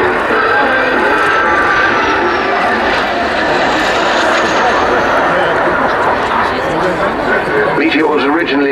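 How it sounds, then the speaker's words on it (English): A Gloster Meteor NF11 early jet fighter flies past at an RAF Cosford airshow, its engines making a loud, sustained roar that builds and shifts in pitch. A voice is faintly heard beneath the noise. "early jet fighter"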